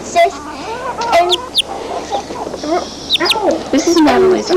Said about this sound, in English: And here's the bantams.